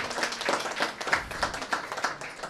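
A small audience applauds with a brisk, scattered clapping that rises and falls, fairly close and lasting only a couple of seconds, with no voices over it.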